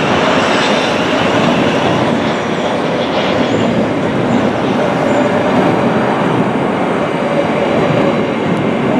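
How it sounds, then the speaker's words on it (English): A twelve-coach passenger train rolls into Gatwick Airport station, a loud, steady roar of wheels and carriages close by, with faint rhythmic clatter and occasional light squeal throughout. "There's this train coming in, it's one of the 12 coaches."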